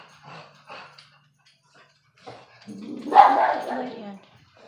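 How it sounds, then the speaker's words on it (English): A dog barks nearby indoors, a few short barks followed by a louder burst of barking, while someone talks quietly in between. "Dog's barking."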